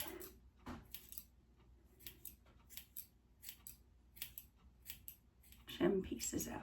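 Scissors trim hair in a salon-style wolf cut, with a series of short crisp snips in irregular rhythm, close and fairly quiet, followed by a louder rustle near the end.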